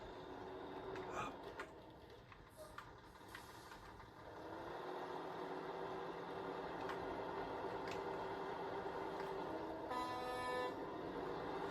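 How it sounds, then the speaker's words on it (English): A truck horn honks in the SnowRunner driving game set in Michigan, several toots standing out over a steady engine idle and rumble, with a brief run of repeated honks near the end. "Yes, I like honking horns."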